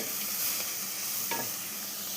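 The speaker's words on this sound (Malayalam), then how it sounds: "പിന്നെ എണ്ണ ഒഴിച്ചു, കടുക് ഇട്ടു, ഉള്ളി മുളക് ഫ്രൈ ചെയ്തു, വേവിച്ച കപ്പയ്ക്ക് അതിലിട്ടു" Cooked tapioca being stir-fried in oil with mustard seeds, onion and chili, a steady close sizzle with a brief louder stir scrape partway through.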